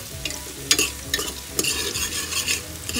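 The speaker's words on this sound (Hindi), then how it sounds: "थोड़ी सी और मध्यम आँच पे ये प्याज भूगी" Onions frying in a pan over medium heat for dal, with a steady close sizzle broken by a few sharp scraping stirs of a spoon.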